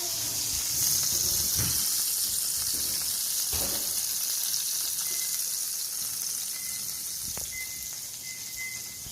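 Potatoes fry in a hot pan with a steady, close sizzle and scattered sharp crackles and pops, with no one speaking.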